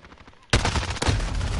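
Call of Duty gunfire bursts out suddenly and keeps going as dense, loud automatic fire with repeated cracks for over a second, with no pause.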